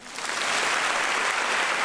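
Dense, steady applause from a large audience at a folklore festival's final gala, a full wash of clapping that swells in within the first moments and holds loud and unbroken to the end.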